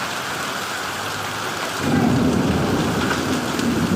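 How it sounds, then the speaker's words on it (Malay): Hail falls with heavy rain and thunder in Shah Alam, Selangor: a dense, constant hiss of rain, with a low rolling rumble of thunder that swells halfway through and stays loud to the end. "Hujan air batu."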